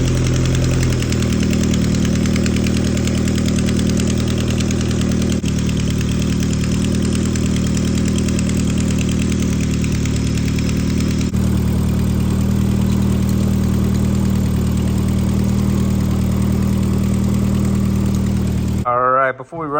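An adult go-kart engine idles steadily and loudly with a rough, ticking tone from an exhaust leak at the manifold where the bolts are loose or missing, then cuts off near the end.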